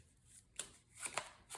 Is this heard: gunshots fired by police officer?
no